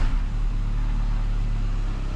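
Loud, close engine of a VW Gol G3 running with a steady low rumble; the owner suspects a strange noise from the clutch, and no one speaks.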